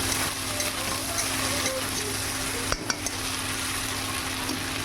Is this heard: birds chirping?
no